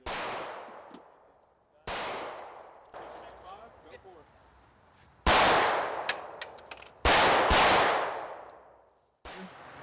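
Gunshots at a shooting range, with about five loud, sharp reports at uneven intervals, each followed by a long decaying echo. The shots are close and there is no talking between them.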